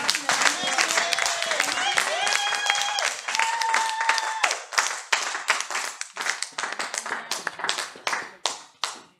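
Church congregation applauding, a dense burst of claps that starts over sung or sustained voices and music, then breaks into ragged, separate clapping that fades in waves toward the end.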